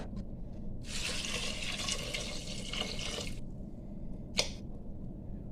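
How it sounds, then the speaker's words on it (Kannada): Water poured into a dal rasam pot, a close, steady gushing splash of about two and a half seconds, then quiet with a brief later splash. "ಇವಾಗ ನೀರು ಹಾಕುವ"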